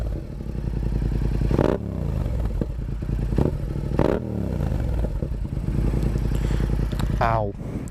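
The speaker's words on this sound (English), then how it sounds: "So we're gonna give this a short little rev." Motorcycle fitted with a loud aftermarket exhaust, revved briefly outdoors in a residential area near a school: a steady rumbling idle broken by sharp throttle blips around two and four seconds and a final rising rev.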